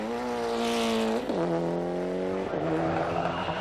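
On a stage of the 1995 Network Q RAC Rally, a rally car's engine howls close by, climbing in pitch, dropping sharply at two quick gear changes and winding up again.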